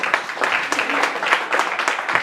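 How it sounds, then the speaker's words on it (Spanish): A church congregation claps and applauds during a Spanish-language worship service, a steady wash of many hands with a few sharper claps standing out over two seconds. "Denle un aplauso a Cristo bien fuerte."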